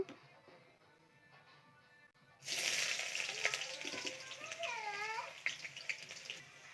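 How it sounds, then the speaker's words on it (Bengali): Onion goes into hot oil in a pan, and a sudden loud hiss breaks out after a quiet start, then settles into steady close sizzling with a few clatters. "তেল গরম হয়ে গেছে, পেঁয়াজটি দিয়ে দিব, পেঁয়াজটি দিয়ে দিতেছি"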